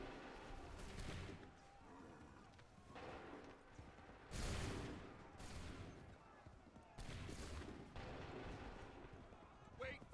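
Assassin's Creed 3 musket volleys crack out in several loud bursts spread across the stretch, each one a broad crash of massed fire, with shouted commands and talk running between the shots.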